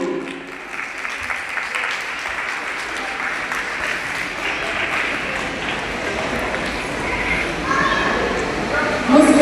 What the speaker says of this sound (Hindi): तालियां बजती रहनी चाहिए आपकी